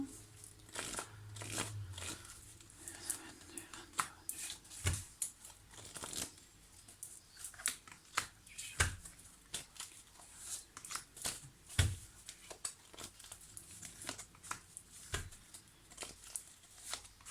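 Tarot cards shuffled and drawn for a five-card spread, a long run of soft riffling and flicking with crisp slaps as cards land, close and quiet, with occasional faint speech.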